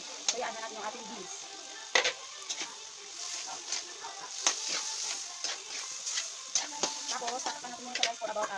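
Beans tossed into a hot stir-fry pan of vegetables, giving a close crackling sizzle with sharp pops and scraping stirs that rise and fall throughout.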